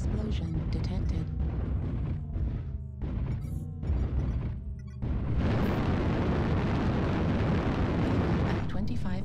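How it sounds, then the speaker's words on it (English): Weapon explosions in the mech combat video game MechWarrior Online roar as a dense, continuous rumbling blast, booming loud and sustained over several seconds with bursts layered on top. "Weapon explosion detected."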